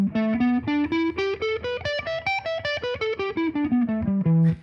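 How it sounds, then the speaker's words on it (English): A minor pentatonic scale is played note by note on a distorted electric guitar, running up and then back down in an even rhythm, each note clear and sustained, with a final held low note. "So here's the minor pentatonic"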